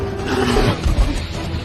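A loud, deep bear roar from a film rumbles up close, a single sustained growling bellow lasting under two seconds with no talking.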